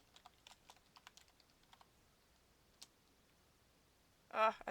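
A computer keyboard typed on in short scattered bursts of light clicks, fairly quiet and close, with a louder burst of noise at the end.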